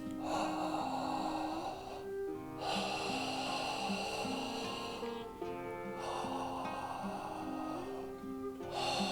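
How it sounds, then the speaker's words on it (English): Open-mouthed throat breathing for a meditation exercise, drawn in through the throat: loud, close, rasping breaths in a steady rhythm of long drawn cycles, roughly three over nine seconds, with no talking. "you're going to do throat breathing, not mouth breathing, throat breathing"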